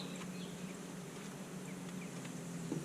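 Honeybees hum steadily around a hive on an overcast day, a faint, continuous buzzing drone with no talking.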